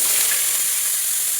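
Chopped large onions hit hot oil already holding bay leaf, cinnamon and cloves for a country-chicken biryani, giving a steady, loud, close sizzling hiss that holds evenly throughout.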